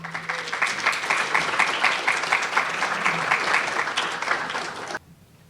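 Audience applause welcoming a speaker at a talk, a sustained close wash of many hands clapping that stops abruptly near five seconds, leaving quiet room tone.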